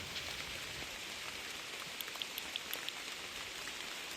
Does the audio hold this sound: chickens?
no